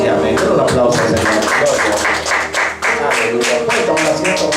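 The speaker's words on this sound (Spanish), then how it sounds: "Un aplauso, Señor." Church congregation at a Spanish-language service clapping steadily together, dense broadband applause with rhythmic hand claps over a held organ or keyboard tone, loud and continuous with a brief dip midway.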